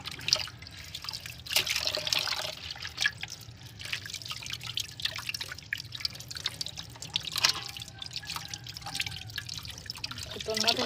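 Water runs and drips in a sink while fish is washed at home, irregular splashes and trickles close by under intermittent conversation.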